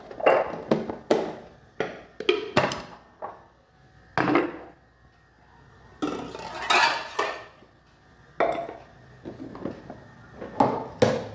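Dishes, pots and cutlery clank and clatter in a home kitchen during cleanup, irregular sharp knocks and scrapes close by, with no speech.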